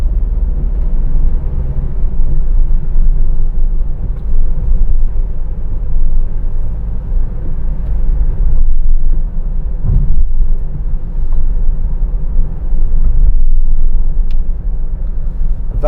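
A 2013 Mercedes-Benz Vito 113CDI 2.1-litre diesel van drives on the road, with a steady, loud low engine and road rumble droning from inside the cab, unbroken and without talk.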